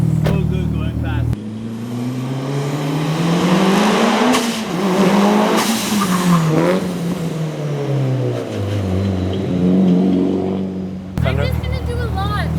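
A Mitsubishi Evo, a 1990s all-wheel-drive Japanese car, accelerates hard with a loud engine rising and falling through the gears as it passes close by, tires squealing at points and voices heard at the start and end.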